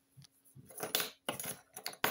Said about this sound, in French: Une paire de ciseaux.